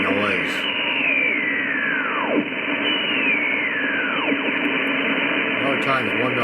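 Steady hiss and crackle of static on the 160 meter ham band near 1.840, with sweeping heterodyne whistles gliding down through the noise, loud and continuous throughout.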